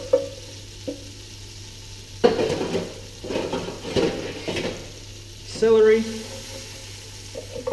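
Onion, celery and carrot sauté in a hot, lightly smoking pan as a steady sizzle with stirring clatter. It swells loudly at moments while a person talks over it.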